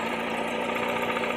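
A CHT motorcycle engine running close up with a loose clutch support, giving a continuous metallic rattle and fast knocking over the engine's steady drone, with no talking.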